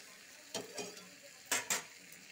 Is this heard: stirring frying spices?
yes